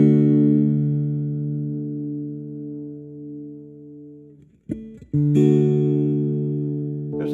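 A sustained acoustic guitar chord through a pickup and amplifier rings with a dense, boxy midrange, fades, then is struck again after a brief pause.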